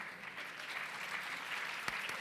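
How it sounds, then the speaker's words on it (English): An audience at a history forum event applauds, a steady, dense wash of many hands clapping at moderate distance, alone and without talk. "let's give them a big round of applause"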